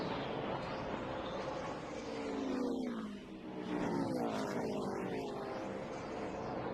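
Race cars lapping the track at Pocono during a 2009 event, engines droning and sweeping past in a pitch-shifting roar that swells, dips and rises again.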